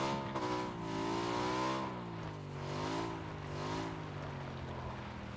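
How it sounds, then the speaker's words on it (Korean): A three-seat motorcycle in PUBG Battlegrounds revs its engine in rising and falling waves, a loud, continuous whining drone that swells and dips several times. "우와, 3인 오토바이다, 이거."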